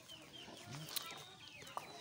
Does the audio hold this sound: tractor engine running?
no